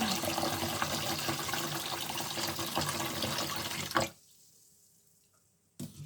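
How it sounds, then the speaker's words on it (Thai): Running water rinses sticky rice in a pot, a steady broadband splashing and trickling for about four seconds that then cuts off into near silence, with a brief return of water at the end. "เดี๋ยวจะล้างน้ำหนึ่งน้ำก่อนนะคะ ล้างน้ำก่อน"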